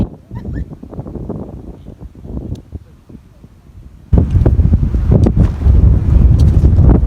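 Wind blows outdoors beside a papaya tree, buffeting the microphone in uneven rumbling gusts that grow much louder and steadier partway through.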